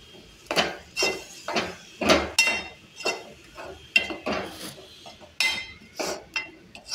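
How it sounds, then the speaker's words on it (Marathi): Cabbage paste being worked into paratha dough, giving a run of repeated soft thuds and clinks of a utensil against a bowl, fairly close and steady, with no talk. "आता ही कोबीची जी पेस्ट करून घेतलेली आहे ती घालायची आहे."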